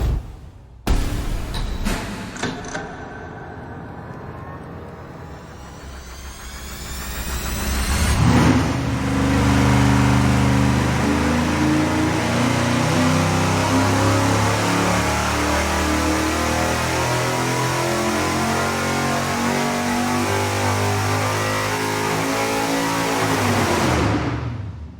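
A hopped-up 6.2 engine making 550 horsepower cranks and fires with sharp bursts, then revs up and settles into a loud, steady, rumbling run before cutting off.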